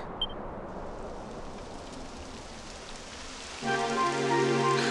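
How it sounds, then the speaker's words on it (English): Steady rain patters on a surface in the video game Dragon Quest XI, a continuous hiss; partway through, a brighter layered tone joins and the rain grows louder. "It would have to go and start raining, wouldn't it?"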